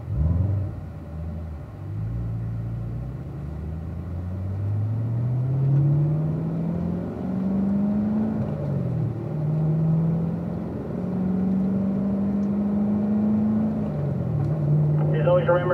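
Cars pulling out onto a race track, engines droning and slowly rising in pitch as they accelerate, a steady close rumble with a voice speaking over it.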